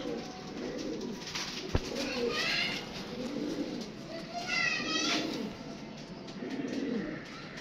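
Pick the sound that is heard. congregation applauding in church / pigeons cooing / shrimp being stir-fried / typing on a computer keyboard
pigeons cooing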